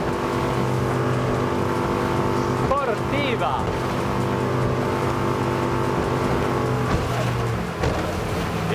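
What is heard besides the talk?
NX 290 Grand Style motorboat, 350 horsepower engine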